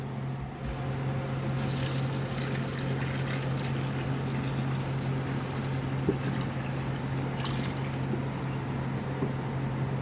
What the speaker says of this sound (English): I'm going to add the water in.